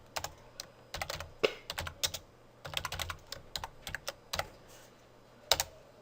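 Quick clusters of crisp keystrokes on a computer keyboard, close and clear, with short gaps between bursts of typing and no speech.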